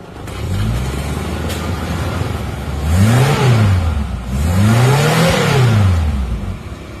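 A rebuilt former racing Suzuki Jimny engine with honeycomb-pattern pistons, close by, steady at idle and then revved up and back down twice, its pitch sweeping high and falling, with no talk.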